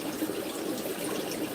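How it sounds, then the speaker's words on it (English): Water pours steadily into fish tanks in a fishroom, a soft continuous splashing rush, fairly faint and unbroken, with no voices. "Probably just fill up the tanks and let them settle"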